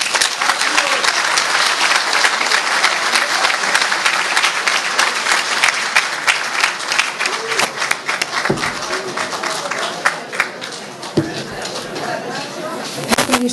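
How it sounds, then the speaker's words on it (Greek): Warm applause rises from a crowd at an anniversary celebration of a student association, dense clapping that thins into scattered claps and murmurs toward the end. "χειροκρότημα."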